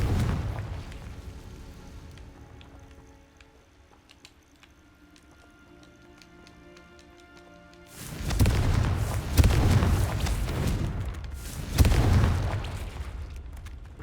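A Confringo explosive spell from Hogwarts Legacy goes off with loud booming blasts, two heavy bursts rolling in after a quieter stretch of humming game ambience.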